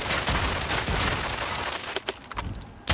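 Light machine gun in the video game Realm Royale firing a rapid rattling burst that carries for about two seconds, then breaks into a few scattered shots before a last sharp report.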